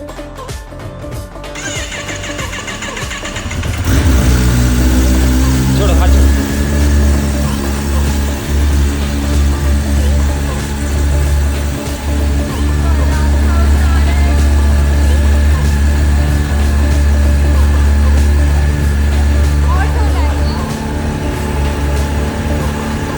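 Kawasaki ZX10R superbike engine fires up after a brief start and settles into a loud, steady idle with a deep rumble that runs on close by, while people talk briefly over it.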